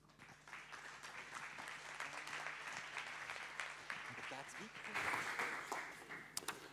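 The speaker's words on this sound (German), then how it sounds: "einen herzlichen Applaus" An audience at a lecture breaks into sustained applause, a steady wash of many hands clapping that swells briefly near the end, with faint talk underneath.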